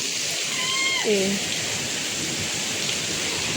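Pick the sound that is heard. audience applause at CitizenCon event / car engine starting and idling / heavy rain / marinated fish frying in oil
heavy rain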